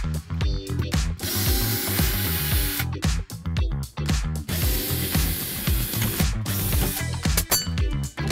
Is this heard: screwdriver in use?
yes